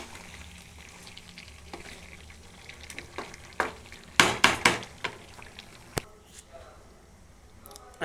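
Layer chicken curry with potatoes frying in oil in a pan, a steady soft sizzle with several sharp clattering stirs of a spoon against the pot near the middle, close and moderately loud.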